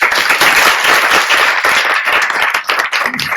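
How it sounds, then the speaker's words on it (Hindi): Hand clapping from a gathering at the Narayan Dhyaan Kender meditation centre in Kaithal, a brisk, loud run of many overlapping claps that wavers slightly near the end. "क्यों तालियां बजा रही हूँ?"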